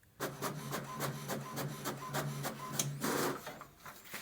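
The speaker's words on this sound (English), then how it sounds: "Under 13 seconds, the print should also come out of the printer." An HP Smart Tank inkjet printer prints a page, giving a steady mechanical whir with rapid rhythmic clicks and carriage passes, a busier feed-and-eject burst near the end, and no talk.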